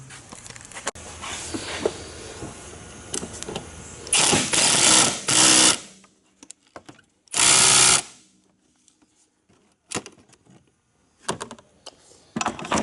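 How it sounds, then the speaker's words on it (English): Bolts being tightened by hand on a Polaris 700, with metallic ratcheting and clanking in scattered bursts, including two louder, sustained stretches of tool noise, near and clear with no talking. "Now all I got to do is put the bolt back in it and tighten both of them up."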